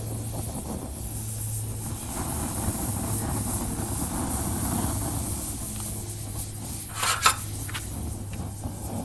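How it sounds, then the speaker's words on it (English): A distant airplane drones overhead with a low steady rumble outdoors, joined by wind noise and a brief louder rustle near the end. "you can also hear the airplanes overhead"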